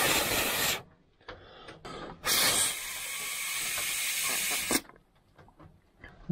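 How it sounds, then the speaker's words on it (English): Air blown by mouth through the fuel pipe of a rough-running petrol generator gives two breathy hissing bursts, a short one and a longer one, close by, with quiet gaps between. "I'll blow through the fuel pipe and see if that float valve is shutting."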